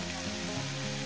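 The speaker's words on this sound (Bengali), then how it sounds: "আস্তে আস্তে আমার কুমড়োটা আর পেঁয়াজটা ভাজা ভাজা হয়ে যাচ্ছে" Pumpkin and onion fry in a pan for pumpkin bharta, giving a steady, soft sizzle throughout with a faint low hum underneath.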